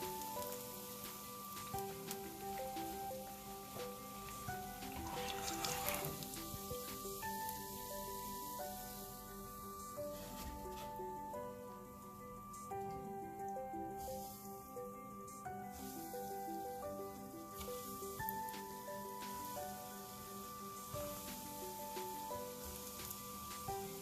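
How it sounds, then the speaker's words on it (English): Malai koftas deep frying in a pot of oil, a soft, steady bubbling sizzle, faint and close, under a constant background tone, with no speech. "this is how you deep fry koftas without breaking them, without them being split"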